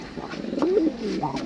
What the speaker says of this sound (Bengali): এই ঝুড়ি দুটো পায়রা আছে সেলের জন্য।